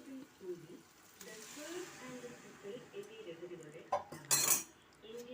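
Cooked green peas are stirred into a Kerala-style curry in a pan, with a spoon clinking and scraping against metal in bursts, a sharp knock near the end, and someone talking throughout.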